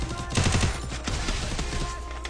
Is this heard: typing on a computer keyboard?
no